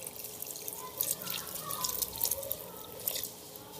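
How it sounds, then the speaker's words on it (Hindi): Water is poured from a cup into a cooking pot while preparing spiced keema with bitter gourd, giving a soft, faint trickling and splashing sound in a quiet kitchen. "अब मैं इसमें 1 कप पानी शामिल करूंगी।"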